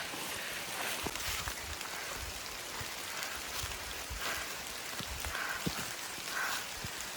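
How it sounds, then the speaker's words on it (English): Heavy rain pours down on a forest campsite in Red River Gorge, a steady close hiss of downpour that runs the whole time, with a few sharper drips and patters on nearby surfaces. "It's a complete downpour out here."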